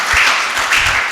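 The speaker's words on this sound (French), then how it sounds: "Applaudissons pour notre Dieu." Church congregation applauding during worship, a steady wash of many hands clapping with no talk over it, fairly loud and sustained through the moment.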